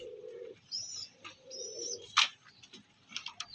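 Old Rampuri breed pigeons coo in low, soft repeated phrases nearby, mixed with a few sharp chirps and tweets from other birds.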